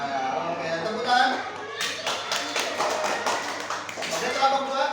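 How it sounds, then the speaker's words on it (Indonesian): Children in an Indonesian classroom clap their hands together, a burst of rhythmic, fairly close claps that starts partway through after a teacher's voice, with chatter around it. "Oke, tepuk tangan."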